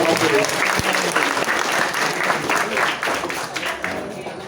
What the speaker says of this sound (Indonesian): Tepuk tangan dulu, tepuk tangan dulu.